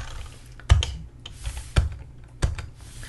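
Keys pressed on a computer keyboard during software work in Nuke Studio: three distinct close, loud clacks spaced about a second apart, with softer clicks between them and no voices.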